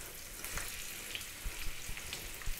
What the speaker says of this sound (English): We're going to grab our potatoes. In they go. And I'm going to cook them till they're nice and sort of golden brown.